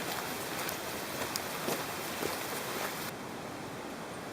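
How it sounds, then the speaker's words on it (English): Steady rain falls on a Scottish hammock camp, a dense, even hiss of drops on the tarp and surroundings that continues unbroken, with no voices. "8 hours it's been raining so far, isn't it?"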